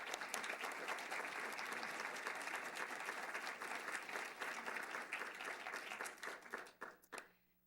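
Warm, sustained applause fills a lecture hall as an audience welcomes a speaker at an alumni last lecture, steady dense clapping throughout that thins and fades out near the end.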